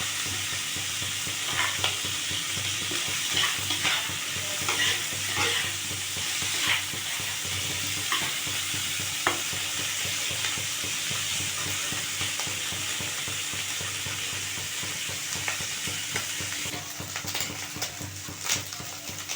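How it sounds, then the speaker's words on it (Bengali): Fish seasoned with salt and turmeric frying in oil in a kadai, giving a steady close sizzle with occasional stirring clicks for the whole stretch. "মাছটা ভাজা হয়ে গেছে তুলে নিচ্ছি"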